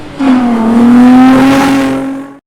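Datsun 510 SSS fitted with a VQ25DE 2.5-litre V6, revved hard from close by in one loud sustained pull, the engine tone rising steadily before cutting off abruptly.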